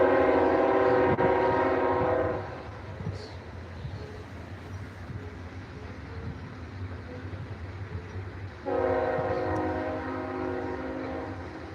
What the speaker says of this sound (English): Y'all know that train got the railroad tracks by the crib and everything.